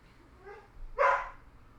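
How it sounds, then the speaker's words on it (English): Dogs bark a couple of times in the distance: a soft bark followed by a louder, sharper one, heard alone against a quiet room. "the dogs start barking"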